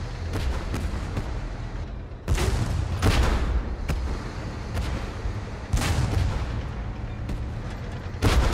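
Tank cannon fire in the Tank Force game, heavy booming shots every second or so over a constant low rumble of battle noise, loud and close with no talk.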